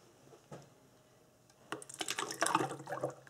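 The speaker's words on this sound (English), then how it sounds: "I'm just going to pour it into a jug just to make it easier for when I'm actually filling up the mould" Thick cold process soap batter is poured into a jug, a soft, wet pouring and glugging that starts partway through after a quiet lead-in, then continues close and moderately loud.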